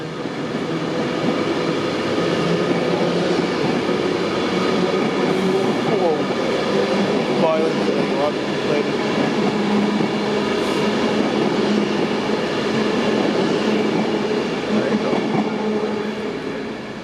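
A train runs steadily past at Preston station, a continuous loud rumble of wheels and carriages with faint squeal and clatter, close by and unbroken.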